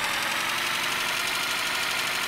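A loud vehicle engine in the game Unturned drones steadily and evenly the whole time, close and unbroken, with a rough knocking idle texture and no voices over it.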